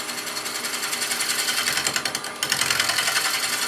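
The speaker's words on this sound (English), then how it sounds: "We're going to take a bowl gouge and face this off just to make sure it's absolutely true." A fast, rattling lathe drone with rapid chattering cuts of a bowl gouge facing off spinning wood, steady and close, shifting in tone midway.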